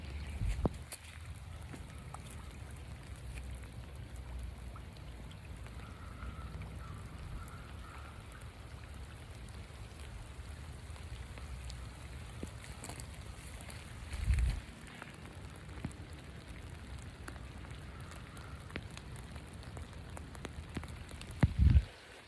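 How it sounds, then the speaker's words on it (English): Steady rain falls on a wooded area as a continuous hiss and patter. It stays even throughout, with a couple of brief louder knocks or rustles near the end and no talking. "You can hear the rain, I mean."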